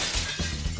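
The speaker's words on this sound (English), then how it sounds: "You broke the glass with a needle." Very thin, fragile antique glass shatters when struck with a needle, giving a brief bright crack and tinkle over a faint background hiss.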